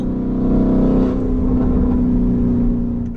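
A Mansory Venatus Lamborghini Urus engine drones loud and steady from inside the cabin while the SUV is driven through winding turns, with a thick low hum that swells slightly partway through.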